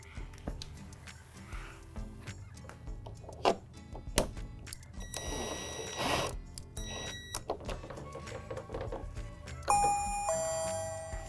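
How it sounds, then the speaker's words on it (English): Doorbell mounted on a Lifetime plastic playhouse, ringing with a bright two-tone chime near the end after several earlier clicks and knocks of handling, close and moderately loud with no talk. "Slide the doorbell onto the base plate."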